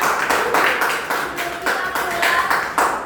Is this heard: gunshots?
no